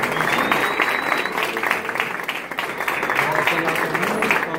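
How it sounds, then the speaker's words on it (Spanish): Wedding guests applaud loudly in a steady burst of clapping that carries through the whole stretch, with a voice speaking over it at times. "El aplauso que suena bien fuerte, a ver, con esas palmas"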